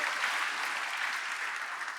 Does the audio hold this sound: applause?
yes